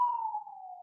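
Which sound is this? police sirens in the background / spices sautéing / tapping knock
police sirens in the background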